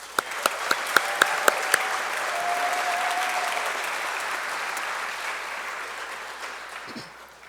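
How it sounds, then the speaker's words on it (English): Audience applause at a medical school recognition ceremony for a compassionate care minor, a broad steady wash of clapping that swells and holds for several seconds, with a few sharp individual claps standing out at the start. "Let's give him a round of applause."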